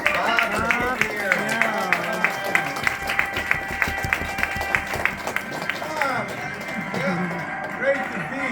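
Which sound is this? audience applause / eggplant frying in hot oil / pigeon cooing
audience applause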